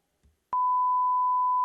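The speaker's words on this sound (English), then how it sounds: "like this tonal noise of 1000 hertz, like this tonal noise of 1500 hertz" A pure 1000 hertz test tone starts abruptly after a faint low thump and holds steady and unwavering, moderately loud and alone, with a click at the very end as it cuts off.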